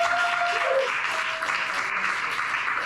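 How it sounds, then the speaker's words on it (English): An audience applauds steadily at moderate level, a continuous patter of clapping with a faint voice underneath. "Give a round of applause"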